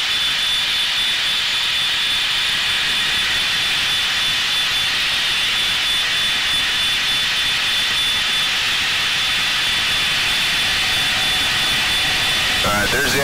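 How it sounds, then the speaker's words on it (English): Blue Angels jet engines with afterburners lighting off on takeoff, a loud, steady broadband roar filling the cockpit throughout, with a brief surge near the end as the thrust builds. "There's the afterburners lighting off."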